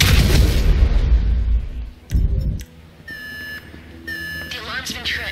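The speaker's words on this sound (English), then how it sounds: "The alarm's been tripped." An electronic alarm beeps and whoops in GTA 5 during a heist break-in, following a burst of loud explosive noise; the repeated tones come in short pulses with game sounds in between.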